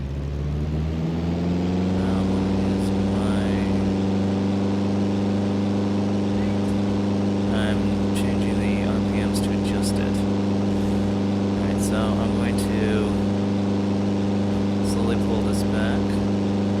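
A simulated light aircraft piston engine in X-Plane 11 drones steadily at constant RPM, a loud, even harmonic hum running throughout, with people talking over it.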